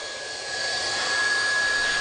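A hot air plastic welding gun fitted with a speed nozzle blows a steady, loud rushing hiss with a thin whine, swelling slightly and holding constant throughout.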